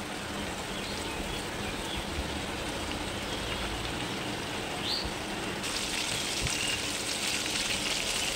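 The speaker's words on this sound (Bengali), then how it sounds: "একসঙ্গে অনেকগুলো দিয়ে ভাজা যাবে না, তাই দুটো দুটো করে দিয়ে ভেজে নেব।" Chicken pieces fry gently in oil over a low flame, giving a soft, steady crackle and sizzle throughout, faint and without talk.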